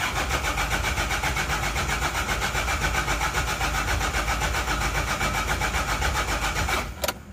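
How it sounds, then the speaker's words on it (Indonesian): An Isuzu Panther 2.3 diesel engine cranks and runs loudly and steadily for about seven seconds, a dense continuous mechanical drone with no voices, cutting off abruptly near the end. "Kita starter dulu"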